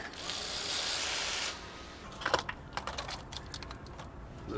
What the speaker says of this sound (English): get an air ratchet or electric ratchet if you have one and get it off the rest of the way.